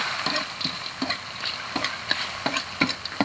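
River snails stir-fried in a wok, their shells clattering and scraping against the metal in quick, irregular strokes of the spatula over a low frying sizzle, close and fairly loud.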